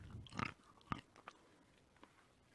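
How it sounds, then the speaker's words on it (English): Someone bites into a dark chocolate bar with a sharp snap, then chews it, giving a few soft, close crunches that fade over a couple of seconds. "that chocolate is brilliant. Just like a lovely dark chocolate, but great snap to it"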